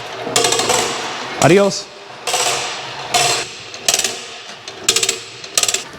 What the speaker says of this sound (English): we are going to pull it all the way out to make sure that that the retraction job does it correctly